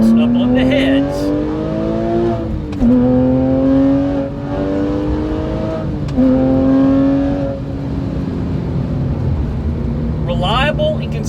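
A Porsche 997.1 Carrera with a 4.3L engine accelerates through the gears, and the engine note climbs in pitch, drops at each shift and climbs again, loud from inside the car while someone talks over it.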